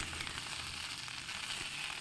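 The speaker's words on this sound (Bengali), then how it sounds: "এখানে সবজিগুলো দেখো ভেজে নিচ্ছি সমস্ত সবজি" A steady sizzle of vegetables frying in hot oil, a constant crackling hiss close by with no voices.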